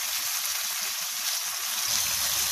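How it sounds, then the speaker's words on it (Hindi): Potatoes sizzling steadily in a hot pan of oil while being fried for a spiced aloo dish, a close, continuous crackle with no talking. "इनको थोड़ा सा फ्राई करेंगे ताकि इसका जायका बहुत अच्छे से हो जाए"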